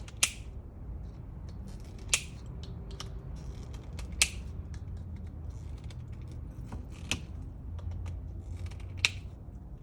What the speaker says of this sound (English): now I'm going to cut the wires loose